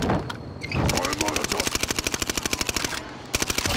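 Rapid automatic gunfire in a multiplayer video game, a long burst of evenly spaced shots running through most of the clip, with excited players talking over it at the start.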